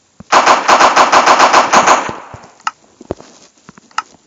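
A Glock pistol fires in the Minecraft PE guns mod video game. About a dozen loud, evenly spaced shots come in a rapid burst and then fade into a few quieter, scattered clicks.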